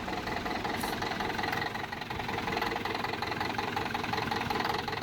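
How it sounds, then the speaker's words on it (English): An old 22-horsepower farm engine idles in a simulated farming game, a steady low rumbling tick-over with faint knocking, moderately loud and continuous with no talk. "That engine tick over is just so smooth though."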